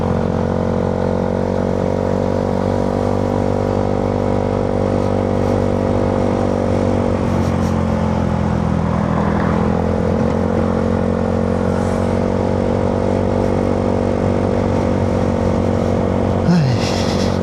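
A motorcycle engine drones steadily while riding, a loud continuous hum heard close as from the rider's helmet, with pitch dipping and rising slightly as speed changes and wind noise around it.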